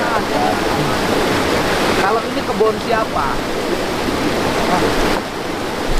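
A strongly flowing small river beside houses in a landslide-hit village in Pasirlangu, Cisarua, West Bandung, rushing as a loud, steady broadband roar throughout, with people talking over it.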